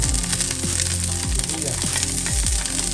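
Garlic sizzles in a pan beside pork steak, giving a steady, dense frying hiss, loud and close throughout, with low musical tones running underneath.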